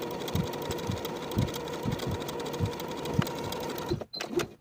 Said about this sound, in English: I'm going to baste along the top edge with about a 1/4 inch seam allowance from one side all the way across to the other using the longest stitch on my machine